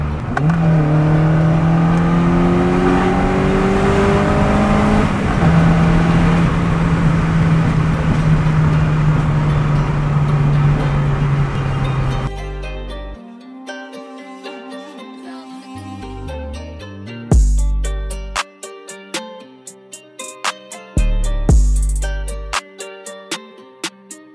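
A tuned Citroën Saxo VTS engine, not running at its best, revs loudly and close with a sustained droning tone that climbs and holds, before music takes over in the second half.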